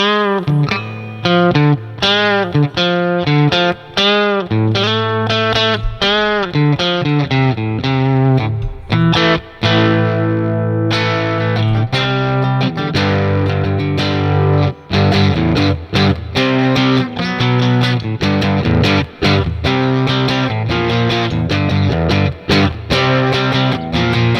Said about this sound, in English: if we try some drive tones